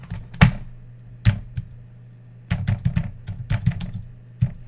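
Keys clack on a computer keyboard in irregular bursts, a few isolated presses and then a quicker cluster of taps, close and fairly loud with no talking.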